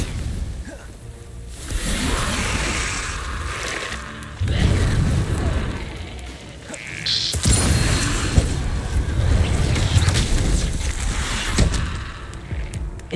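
Hogwarts Legacy spellcasting with an Incendio fire spell, sustained whooshing roars and booming bursts that come in waves, loud and full, with brief quieter gaps between casts.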